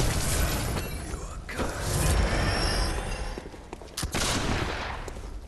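Enemy gunfire in the Bloodborne video game: a dense, loud barrage of overlapping shots and impacts with a few sharper distinct cracks near the end, blended with mechanical clatter and rumble, no talking.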